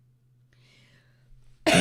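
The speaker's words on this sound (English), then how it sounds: "There's my cough," A single harsh cough from an adult with a sore, slightly painful throat, loud and close at the very end, after near silence with a faint low hum.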